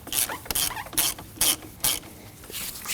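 A 10mm wrench loosens the positive battery terminal nut on a 2015-2024 Ford Edge 2.0L, producing a close series of bright, raspy ratcheting clicks in short, evenly spaced bursts.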